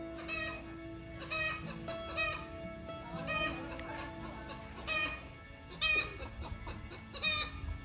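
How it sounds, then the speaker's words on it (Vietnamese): A laying hen in a rural Vietnamese orchard clucks repeatedly just after laying an egg, loud, close cackling bursts in an uneven rhythm with other fowl and farmyard sounds in the background. "Gà mới đẻ vậy hợp tác quá trời."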